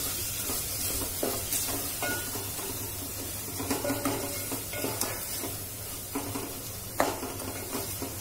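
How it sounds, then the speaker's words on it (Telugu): Softened tomato pieces frying in a pan for crab curry, with a steady low sizzle under irregular scraping and clinking stir strokes against the pan, close by and moderately loud. "టొమాటో ముక్కలు బాగా మెత్తబడిపోయాయి దీన్ని మనం ఇలా 1 నిమిషం పాటు ఫ్రై చేసుకోవాలి"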